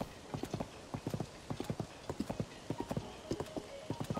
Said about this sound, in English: Link is riding the horse naked.